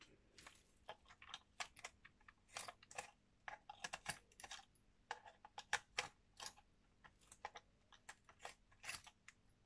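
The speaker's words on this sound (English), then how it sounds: "so I can unscrew more" Small screws being unscrewed from the back case of a RetroStone2 handheld console, a rapid run of light, crisp clicks and ticks, close and fairly quiet, with no voices.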